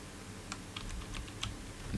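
Computer keyboard keys are pressed in a few quick, separate clicks against a quiet background, close and faint, with no voices.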